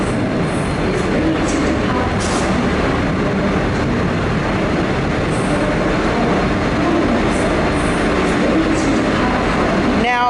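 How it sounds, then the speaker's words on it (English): Warrnambool passenger train A869, hauled by locomotive N468, at platform 2A, with a steady loud rumble of idling diesel and rolling stock filling the scene and faint high hiss and squeals on top, no voices. "Warrnambool A869 is getting ready to depart with N468 on platform 2A."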